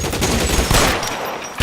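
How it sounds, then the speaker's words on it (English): Gunfire in the crime video game LA Noire Remastered, a dense burst of loud close shots with heavy low thumps, easing off before a final sharp shot at the end. "Son of a bitch shot me!"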